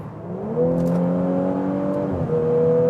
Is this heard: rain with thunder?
no